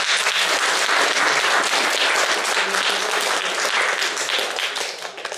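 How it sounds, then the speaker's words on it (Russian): Audience applause fills a reception hosted by the Lithuanian ambassador, dense steady clapping from a crowd that holds strong throughout and only begins to thin near the end, with no talking over it. "Аплодируем ему."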